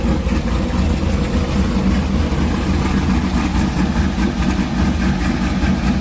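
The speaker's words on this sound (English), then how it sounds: "This car sounds so good." A 2012 Mustang GT V8 fitted with a JLT cold air intake idles close by, a loud, steady low rumble with a slightly lumpy pulse and no talking.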